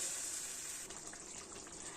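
Water poured from a tap or jug into a pan of dried fish and drumstick curry, a steady rushing gush that runs throughout at moderate level, with no talk.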